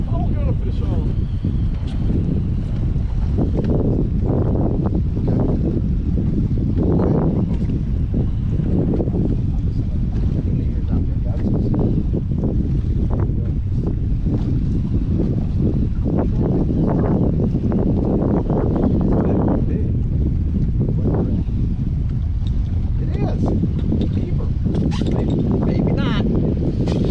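Wind gusts across open water from a boat on a windy fishing outing, a steady loud roar with rushing buffets on the microphone, and people talking throughout.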